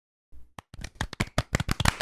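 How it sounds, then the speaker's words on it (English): A small studio audience claps on cue during a podcast recording, a burst of quick, close, uneven hand claps building in density over about two seconds, with no talk over it. "Can we get claps?"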